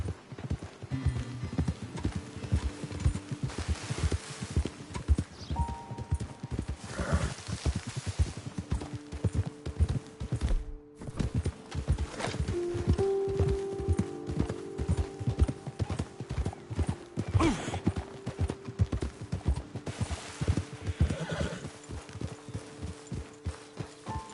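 Horses plod along at a walk in Red Dead Redemption 2, their hooves giving a steady, close clip-clop, with an occasional soft whinny and snort over quiet outdoor ambience.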